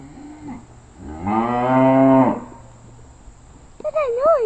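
A cow at an animal rescue farm gives one long, loud, close moo, followed by a voice briefly imitating the sound.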